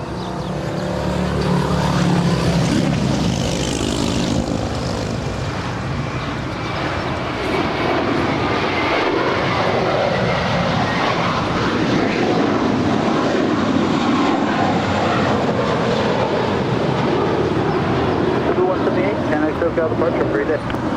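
An airliner departing Los Angeles International Airport for Boston roars steadily with loud jet-engine noise across the whole span, a broad sustained rumble that swells and holds, heard from an outdoor spotting position with no clear talk.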